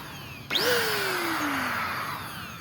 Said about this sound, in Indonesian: Kita coba tes nyalakan mesinnya.